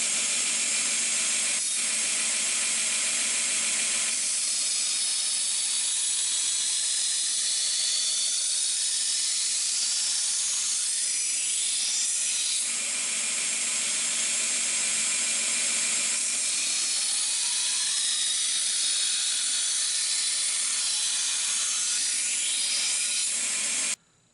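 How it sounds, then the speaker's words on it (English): A steel chef's knife blade, made from salvaged steel, having its edge ground: a loud, continuous abrasive hiss that holds steady for about twenty-four seconds with slight swells, then cuts off abruptly at the end. "start the first grind on the other side of the blade."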